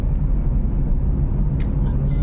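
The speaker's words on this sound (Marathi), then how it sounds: "त्यामुळे रस्त्यावरती गाड्यांची फारच वर्दळ आहे." Steady car traffic on a cloudy road in Konkan after rain, with many four-wheelers out during May; a continuous low engine-and-tyre rumble holds throughout, with a brief brighter hiss passing midway.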